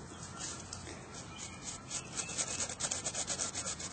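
Soft brush rubbed gently over textured mixed-media paint, a steady close scratchy swishing that grows into quicker rhythmic strokes toward the end, with no talking.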